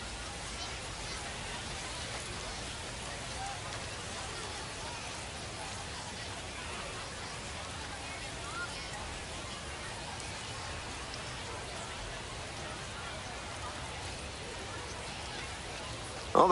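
Steady rain hiss from a baseball video game, constant and broadband throughout with no clear voices, a brief louder bump at the very end.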